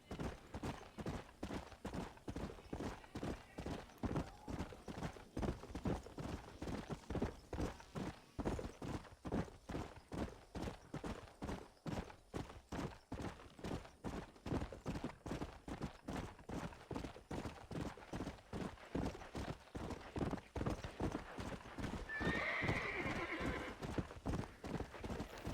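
Horse hooves clip-clop in a steady, rhythmic walk through Red Dead Redemption, with a whinny rising near the end, moderately loud and close, no talk over it.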